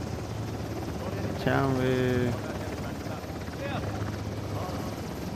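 Helicopter in the game Uncharted: The Lost Legacy, a steady rotor and engine drone running continuously in the background while a player speaks briefly over it.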